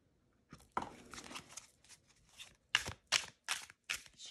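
A waxy, non-glossy tarot deck printed in China being shuffled by hand, a run of crisp riffling and card-slapping bursts, quiet at first then a series of sharper, evenly spaced shuffles close up.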